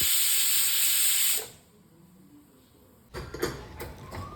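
A pressure cooker of broken wheat releases a loud, steady hiss of steam for over a second, then falls quiet before some nearby clatter and knocks.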